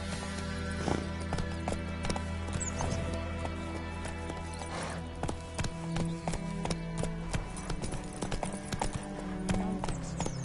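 Roach the horse being ridden in The Witcher 3, hooves clip-clopping in a brisk, steady rhythm close by, with a whinny and snorts mixed in over game music.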